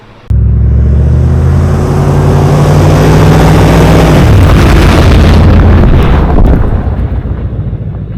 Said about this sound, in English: I'll get my winch plate cut down to that